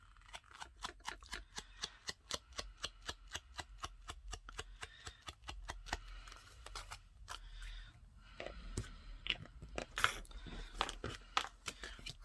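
Scissors snip through paper for fussy cutting in a junk journal craft, a quick, steady series of close, crisp clicks that slows into scattered snips and soft paper rustling near the end.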